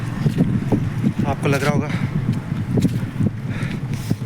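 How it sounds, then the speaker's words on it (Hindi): Strong wind gusting at a seaside chowpatty garden, buffeting the microphone in low rumbles beneath someone talking throughout. "ये हवाएं बहुत तेज़ चल रही है, बहुत तेज़ हवाएं चल रही है"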